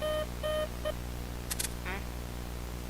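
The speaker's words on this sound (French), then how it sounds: "Le détecteur de fumée." A smoke detector in a Roblox horror game gives three short electronic beeps in quick succession, followed by a couple of tiny chirps and a faint warble, quiet against a low steady hum.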